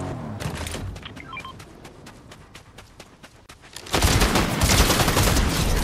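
Gunfire in the Fortnite battle royale game: scattered sharp shots crack at a distance, then a loud, dense burst of rapid firing erupts close by, with no talking.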